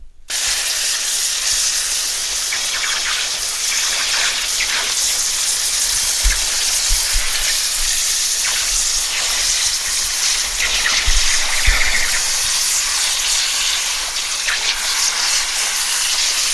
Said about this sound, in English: It's time to wash out another tie-dye for you.